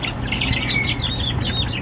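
Chicks being moved to their new coop, a dense chorus of high, thin peeping and chirping from many birds close by, with rustling and shuffling underneath.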